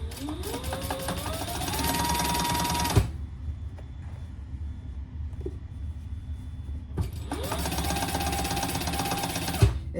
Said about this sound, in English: we're going to top stitch only that seam that we just created and the exterior